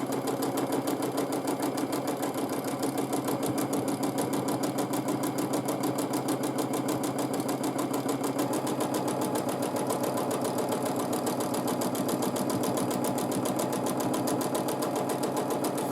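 A sewing machine quilts a feather design into fabric, its needle running in a steady, fast, unbroken mechanical chatter, close and even for the whole stretch with no talking.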